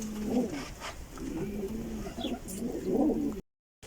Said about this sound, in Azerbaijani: 2 dənə quşumuz eniş elədi.